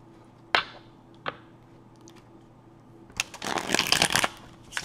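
Tarot card decks are shuffled close by. A couple of soft single taps come first, then a brisk burst of riffling and flicking cards in a quiet room.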